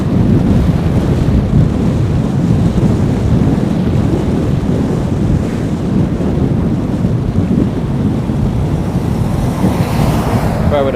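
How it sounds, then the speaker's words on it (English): A strong headwind roars against a cyclist's microphone in a loud, unbroken low rumble that holds steady throughout. "The wind's like pushing me back."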